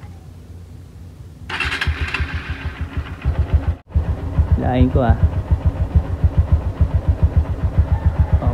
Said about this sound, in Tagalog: check muna natin kung gumagana pagka umaandar yung motor